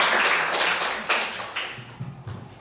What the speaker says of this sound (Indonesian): Baiklah, tepuk tangan dulu untuk kita semua.